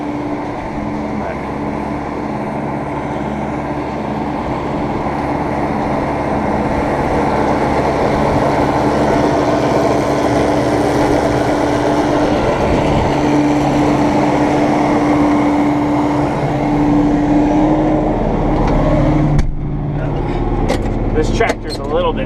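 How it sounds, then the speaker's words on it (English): A small tractor drives a PTO-powered feed mixer on a ranch, producing a steady, loud engine drone with a mechanical hum throughout; a sharp clatter breaks in near the end. "This tractor's a little bit small for this mixer"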